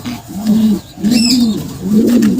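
Pigeons bred from a Bruno line coo in three repeated rounded phrases, close and fairly loud, with a faint high chirp between the second and third.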